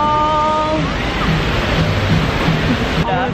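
A waterfall in Bali roars as a loud, steady wash of falling water close by, with faint voices in the background.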